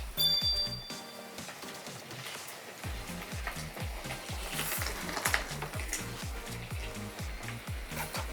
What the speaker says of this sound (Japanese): そしたらこのまま揚げていきます。